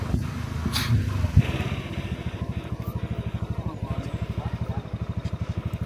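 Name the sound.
Honda motorcycle engine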